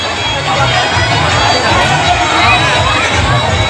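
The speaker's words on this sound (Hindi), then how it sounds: "भीड़ थोड़ी सी ज़्यादा है" Dense crowd of women gathered for a kalash yatra water procession during a three-day mahayagya in a Bihar village, a steady loud hubbub of many voices and shouts filling the whole stretch without pause.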